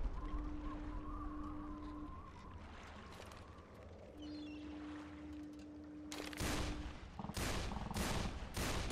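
Video game gunfire in a shooter, a cluster of sharp bursts of shots near the end following steady tones and game effects, moderately loud with no speech.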